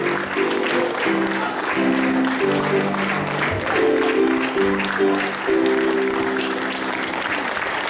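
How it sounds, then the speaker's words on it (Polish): Applause for young performers at a holiday stage show put on by a municipal culture centre, sustained clapping from an indoor audience lasting the whole stretch, with some musical tones underneath. "gorące brawa"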